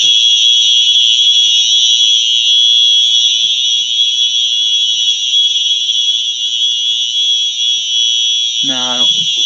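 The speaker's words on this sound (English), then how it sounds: "Nah, I'm gonna shut the alarm off." A Simplex 4903-9236 fire alarm blares continuously at close range, a loud piercing high tone that doesn't let up, with a brief voice near the end.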